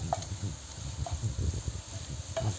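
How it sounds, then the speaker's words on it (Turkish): Pepper paste frying in a pan while being stirred, a steady close sizzle with soft scraping strokes and a few brief higher clinks, continuous and without talk. "önce bu şekilde salçamızla güzelce bir kavuralım"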